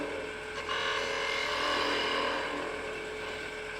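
A wood lathe spins a spalted wood candlestick blank while a tool cuts a recess, giving a steady whirring hum with a rough scraping cut that starts sharply and holds, close and without talk.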